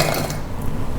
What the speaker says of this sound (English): We'll start by adding in digestive biscuits.